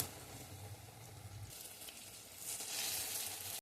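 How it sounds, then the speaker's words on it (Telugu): Curd punugulu fritters frying in hot oil, a faint, steady bubbling sizzle that swells louder near the end. "ఇవి గోల్డెన్ కలర్ వచ్చే వరకు వేయించుకుందాం."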